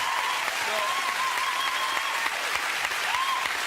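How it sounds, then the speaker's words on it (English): Studio audience of a television talk show applauding, a dense, even wash of many hands clapping throughout with a voice briefly heard over it. "honestly, you should clap because he is a genius."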